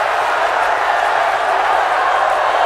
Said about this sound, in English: Let me wait for the crowd to calm down.